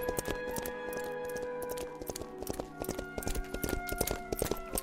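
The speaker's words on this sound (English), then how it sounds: "she saw her father's horse gallop into the courtyard without her father" Galloping horse hooves as a storybook sound effect, a quick rhythmic clip-clop that stays loud and close with no pause, with faint voice traces underneath.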